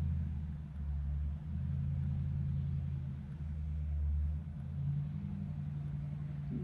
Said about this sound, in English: Almost like some car just spinning around or doing something